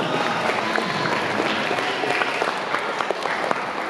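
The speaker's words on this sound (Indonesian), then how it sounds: "tepuk tangan" An audience at a motivational talk show claps steadily in a dense, sustained burst of applause that stays fairly loud and even throughout, with scattered sharper claps standing out and crowd murmur beneath.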